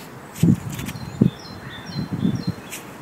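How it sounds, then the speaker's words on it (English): Outdoors with several faint bird chirps and calls scattered in the background, accompanied by soft rustling and a few low thumps. "all you can hear is birds."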